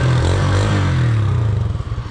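Motorcycle fitted with a G-Moto aftermarket exhaust, a loud close low rumble that holds steady and then breaks into a pulsing, throbbing idle toward the end.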